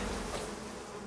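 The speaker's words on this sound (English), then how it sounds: "Bees. There you are, bees." Bees buzzing in the survival video game Icarus, a steady dense insect drone that fills the whole moment at moderate level with no talk over it.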